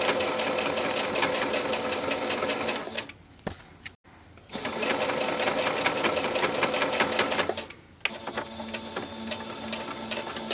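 Sewing machine stitching fabric for a bowl cozy, a loud, close, rapid mechanical whirring that runs steadily, pauses briefly twice, then resumes.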